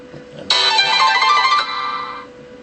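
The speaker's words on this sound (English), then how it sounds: "Well, that's my phone." A mobile phone ringtone cuts in suddenly and plays loud and bright for about two seconds, then drops off quickly. It sounds alone in a quiet room with no talking over it.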